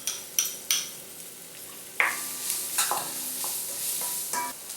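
Chopped onion sizzles and fries in a hot pan with red chili powder for tomato chutney, a steady close crackle broken by a few sharp spoon-stirring clinks and scrapes, with no voices.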